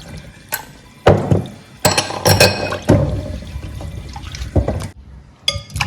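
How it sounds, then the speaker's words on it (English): Cocoyam pieces for chips splash into a pot of salted water in a series of sharp plops and clinks over several seconds, close by, with no talking. "We'll go ahead and add our cocoyam to the salted water."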